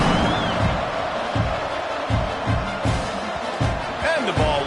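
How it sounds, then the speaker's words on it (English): Football stadium crowd at a Notre Dame game buzzing after a touchdown, a loud continuous roar with scattered whoops and claps, steady throughout with a commentator talking over it. "this crowd is buzzing after that last score"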